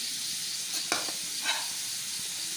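Grated coconut is dry-roasted in a pan with a soft, continuous sizzle and hiss, broken by a few brief scrapes as it is stirred.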